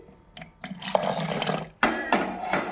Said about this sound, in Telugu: టైట్గా ఉందండి, కొంచెం వాటర్ పోసుకుందామండి.